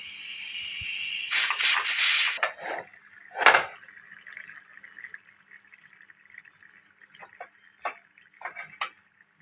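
Water poured from a tumbler into a pressure cooker of green gram, a short burst of splashing and filling followed by a few scattered drips and scrapes, close with no talk.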